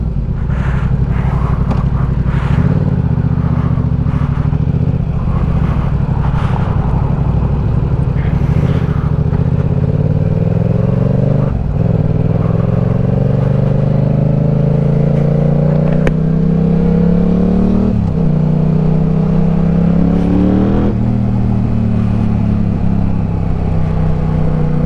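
A Yamaha R7 sport bike engine is loud and close, rising through repeated revs with throttle blips and drops back toward idle, plus some mechanical clatter at the start.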